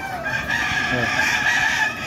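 Laying hens cluck and a rooster crows over steady background noise, with faint voices nearby as the hens are bathed.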